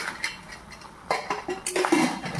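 Cauliflower and potato being stirred with spices in a pan, a utensil scraping and clinking against the metal in quick irregular strokes, close and moderately quiet.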